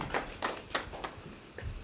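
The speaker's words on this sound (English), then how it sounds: "Once more clap for him, please." A small audience at a conference gives a few separate claps for a speaker, in a brief, sparse and fairly quiet burst of hand claps spaced out rather than a full round of applause.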